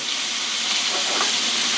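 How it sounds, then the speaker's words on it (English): Shrimp sear in a hot frying pan for lemon garlic shrimp pasta, a dense, bright hiss of frying that holds at an even loudness throughout with no talking. "lightly toss the shrimp in there. See that sizzle?"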